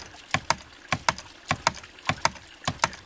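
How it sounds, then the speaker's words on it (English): A 1-inch poly ram pump mounted against a hollowed-out tree, feeding black polypipe up a hill to a tank, thumps out sharp, resonant knocks in uneven pairs, about ten beats across the stretch, close and clear with no talking. "I wonder if the neighbors can dig the beat of the ram pump."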